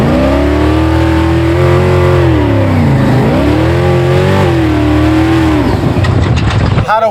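Trophy Bug rally car engine revs hard and loud at a night rally launch, rising and falling pitch with sustained roar and brief tire noise near the end.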